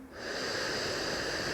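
A single deep, slow breath is drawn in during a power yoga flow, a soft, close airy rush that swells and holds steady without any talking.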